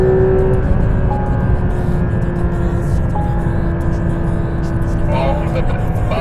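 A Porsche GT3 RS on track at full throttle, its engine holding a steady, loud drone close to the mic, with a voice talking over it.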